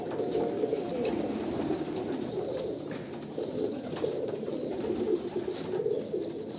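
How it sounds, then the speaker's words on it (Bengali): Kalanka pigeons of Andhra bloodline coo in repeated low rolling calls, close and steady, with faint higher chirps in the background and no voices. "দেখুন এই একটা পায়রা, কালাঙ্কা পায়রা"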